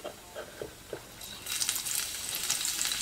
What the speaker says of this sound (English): a pinch of cumin. When cumin get brown, we can add some